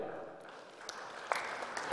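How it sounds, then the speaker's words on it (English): An audience at a yacht race prizegiving claps, a fairly faint spread of scattered hand claps with a few sharper individual claps, mixed with a background voice. "Give him a round of applause."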